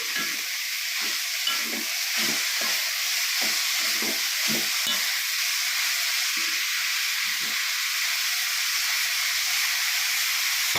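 Chopped kodithoova greens are turned in a hot pan for thoran, a steady frying hiss running throughout with a burst of close scraping stir strokes early on that fades into continuous sizzle.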